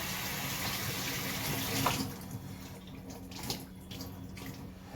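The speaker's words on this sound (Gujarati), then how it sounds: "બે ત્રણ પાણીથી જરા સાફ કરીશું એટલે ચોખ્ખા થઈ જાય" Water runs steadily for a couple of seconds, then gives way to close, gentle sloshing and splashing as black-eyed peas are rinsed by hand.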